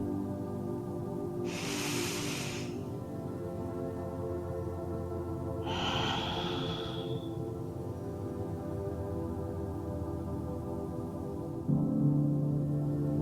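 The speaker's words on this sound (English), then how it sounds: "Let's take a deep breath." Two deep, slow breaths during a guided relaxation, a long inhale followed by an exhale, each airy and close over a steady low background hum, with a soft tonal shift near the end.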